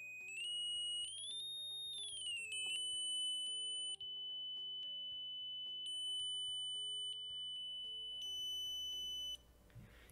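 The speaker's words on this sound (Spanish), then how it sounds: "lo conecto a un generador de señales y le aplico todo tipo de señales y frecuencias" Pure electronic test tones from a signal generator through a small homemade planar speaker with a flexible PCB, holding steady pitches then stepping and sweeping up and down, loud and continuous with no voices.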